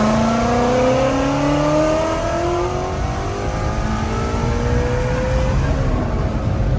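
A Shelby GT350 V8 with a manual gearbox revs hard toward high RPM, its engine note climbing steadily in pitch with a loud, close roar that fills the whole stretch.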